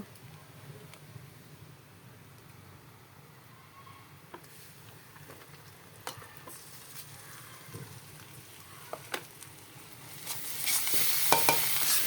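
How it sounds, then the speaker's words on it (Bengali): Browned onion and spices frying in a pan for a meat curry, a soft steady sizzle with scattered clicks of stirring, growing louder and brighter toward the end. "এই যে পেঁয়াজটা বাদামি কালার হয়ে গেছে, এর মধ্যে আমি সমস্ত মশলা দিয়ে দেব।"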